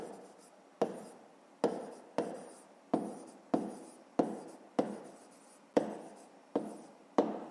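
Pen strokes scratch across paper in a regular rhythm, about ten short scribbled bursts, each starting sharply and trailing off, close and fairly quiet with no voice.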